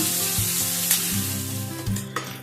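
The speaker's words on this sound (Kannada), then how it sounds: "ಹೈ ಫ್ಲೇಮ್ ಅಲ್ಲಿ ಇದನ್ನ ಒಂದು ನಾಲ್ಕು ನಿಮಿಷಗಳ ಕಾಲ ಇದನ್ನ ಚೆನ್ನಾಗಿ ಫ್ರೈ ಮಾಡ್ಕೊಳ್ಳೋಣ" Onions fry on a high flame in a pan, giving a loud, continuous close sizzle with occasional stirring scrapes and no voices.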